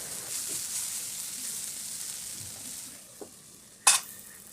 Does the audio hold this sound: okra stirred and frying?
yes